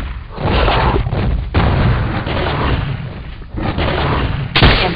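Heavy, booming gunshots fired at a T-Rex's head in Jurassic Park Trespasser, loud and close, with blasts and rumbling echoes running together over several seconds and a sharp final shot near the end.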